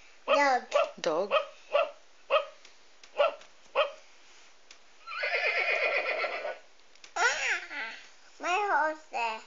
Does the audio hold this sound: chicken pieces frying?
no